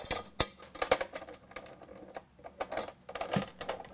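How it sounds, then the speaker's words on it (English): Metal bolts being driven and tightened into an Amazon Basics full-motion articulating TV wall mount, giving scattered sharp clicks and clanks at close range with uneven pauses between them. "I'm going to put these all in loosely before I tighten them"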